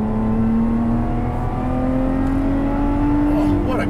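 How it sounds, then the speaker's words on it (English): A Lotus Evora GT on a race track drones loudly from inside the cabin, its engine note rising steadily, with a quick throttle blip for a downshift near the end. "You have to give quite a big blip to downshift"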